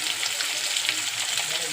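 Chopped onion frying in a pan, a steady dense hiss and crackle of sizzling oil holding evenly throughout, close and moderately loud with no clear speech over it.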